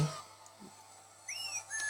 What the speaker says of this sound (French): j'aime bien quand Beerus il gagne, il fait une victoire dans des combats, il siffle